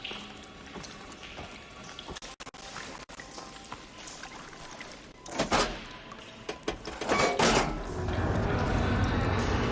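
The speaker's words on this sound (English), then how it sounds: "Sounds like the water's switched." In a video game, a steady rush of flowing water swells in after a valve switches, with a few clunks and a metallic shift, growing louder and holding as a continuous gush.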